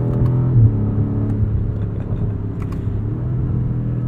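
A 2021 BMW M5 Competition engine rumbles deep and close, a steady low drone with a brief swell early on, heard alone without talking.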